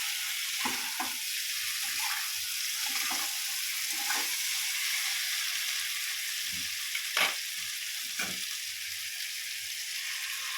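Spice masala for a small-potato kosha sizzles steadily in hot oil as water is poured in, a constant hiss broken by the clack and scrape of stirring, with no talking.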